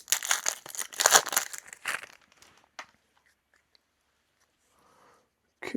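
Crinkly foil wrapper of a Topps Finest 2026 trading card pack being torn open up close, a burst of crackling and ripping, then near silence and a final rustle.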